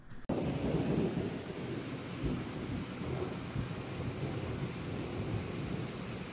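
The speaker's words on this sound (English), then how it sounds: "It was starting to storm outside" Thunder rumbles and rain pours steadily throughout a thunderstorm in The Sims 4, with a sudden start and a continuous dense roar that stays loud and close for the whole stretch, no voices.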